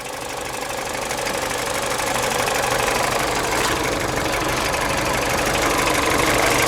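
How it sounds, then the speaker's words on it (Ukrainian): A car engine bought at a US auto auction idles steadily with a constant rattling knock, loud and close, no voices. "От двіжок тарахкотить, як має бути."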